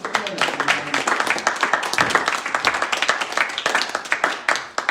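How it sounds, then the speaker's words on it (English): Audience applause at a poetry reading, individual hand claps distinct and fairly close in a smallish room, steady and moderately loud across the whole stretch, with some voices mixed in. "Gilbert Gordon, give him a big round of applause."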